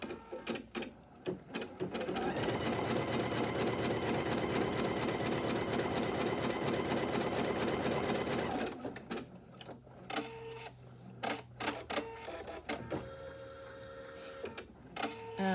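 A sewing machine bastes a quilt block for a bunny orange-peel centre in place. It whirs loud and steady for about seven seconds, then stops, and a few quieter clicks and mechanical taps follow.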